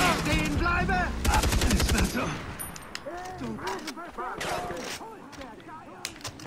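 Far Cry 3 gunfire: rapid bursts of automatic shots close up, followed by scattered single shots, with someone talking excitedly over much of it.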